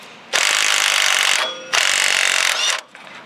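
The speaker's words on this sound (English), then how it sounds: "And you get this top bolt out." A ratchet wrench removing a Lincoln Town Car suspension bolt clicks rapidly in two long bursts and a short third one, loud and close, with brief pauses between.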